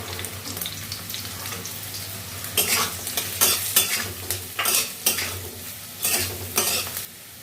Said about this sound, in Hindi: अब इसमें शिमला मिर्च को डाल देंगे, बनाएंगे और थोड़ा सा शिमला मिर्च को भी भूनेंगे।